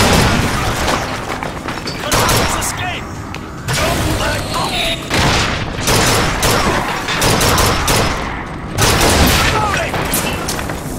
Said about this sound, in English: I shot the rocket out of midair!